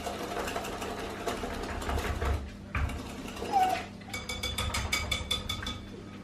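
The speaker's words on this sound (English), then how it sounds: "we're going to whisk that through. And this is going to prevent any lumps in our souffle." A whisk works meringue into pastry cream for a vanilla soufflé, giving a steady, fast mechanical clatter against the bowl that runs throughout with no talking.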